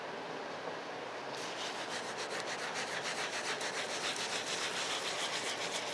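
Sandpaper of 400 grit rubs back and forth over the painted body of an Epiphone guitar, a close, rhythmic scratchy swishing that starts after a quiet moment and continues steadily.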